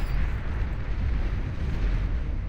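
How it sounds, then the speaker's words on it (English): Lightning cannons in the real-time strategy game Beyond All Reason, during an 8v8 deathmatch, firing into clumped groups of units, a continuous rumbling barrage of blasts and crackling booms with no voices. "Those lightning cannons doing serious damage, especially to big clumped up groups of units like this."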